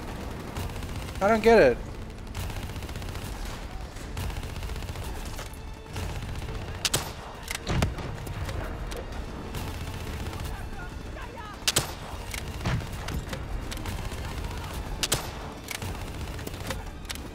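Gunfire in Call of Duty: Black Ops III, a series of sharp loud shots spread through the stretch with dense bursts at points, over steady game background, while someone talks briefly.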